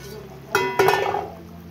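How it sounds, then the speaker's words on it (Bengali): Gule fish tipped into boiling curry in a cooking pot: two quick, close splashy clatters of the fish hitting the liquid over a low bubbling simmer. "ঝোল ফুটে গেছে, এর মধ্যে আমি সমস্ত গুলে মাছগুলো দিয়ে দিলাম।"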